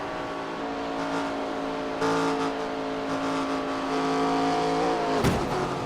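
Onboard engine of Kevin Harvick's NASCAR race car in iRacing, a loud continuous high drone near the listener that dips briefly near the end, alone with no talking.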